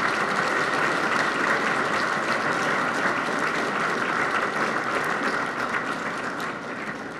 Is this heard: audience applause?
yes